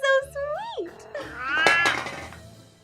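A cat in a black cat Halloween costume lets out rising, wavering meows, close and fairly loud, ending in a longer drawn-out complaining cry.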